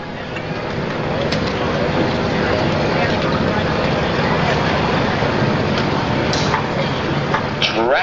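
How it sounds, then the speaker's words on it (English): An International 1086 super stock pulling tractor with a three-charger setup roars at an evening tractor pull in Ionia, Michigan, a loud, steady engine drone mixed with crowd and PA noise that holds throughout. "Tractor coming up"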